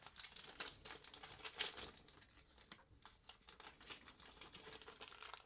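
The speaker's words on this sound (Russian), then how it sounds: "Сейчас я их назад в пакетик." Small radio parts tip back into a plastic bag with continuous close crinkling and rustling of the plastic, with brief sharper rattles.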